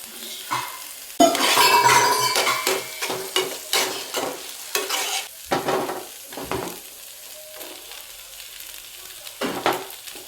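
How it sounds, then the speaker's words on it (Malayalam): Macaroni pasta being stirred in a pan with chilli flakes and softened onions, a close run of scraping, clattering stirs over a steady sizzle, loudest at first and then coming in separate strokes. "നമ്മുടെ മാക്രോണി ഇട്ടൊന്ന് ഇളക്കി കൂട്ടിയിട്ട്"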